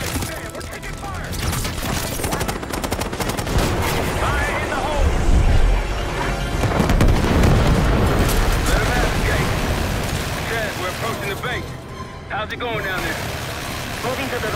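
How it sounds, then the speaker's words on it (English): Heavy combat din from attacking aircraft in Black Ops 6, with rumbling engines, bursts of gunfire and crashing impacts forming a loud, dense wash while voices speak over it. "Damn, we're taking fire!"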